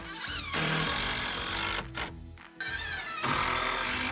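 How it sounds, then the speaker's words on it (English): A power drill pre-drills and drives screws into wood, whirring steadily in bursts, pausing briefly mid-way before revving up again, close and loud. "just pre-drilling and then running, and then coming back with a screw afterwards to attach it"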